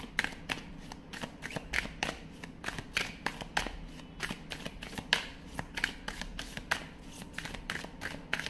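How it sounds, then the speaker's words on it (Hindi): A tarot card deck being shuffled by hand, close and steady, with a rapid rhythmic series of crisp card riffles and slaps repeating throughout. "एक और डेक है अभी तो वो भी देखूंगी।"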